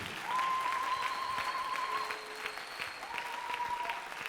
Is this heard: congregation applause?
yes